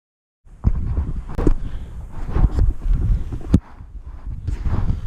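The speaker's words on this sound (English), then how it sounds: "It's kind of windy out, as you guys can probably hear." Gusty outdoor wind at an air rifle range buffets the microphone in a steady low rumble, with a few sharper bumps and knocks; no one speaks.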